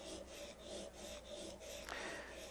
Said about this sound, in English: You work that on the stone until you can feel a burr edge.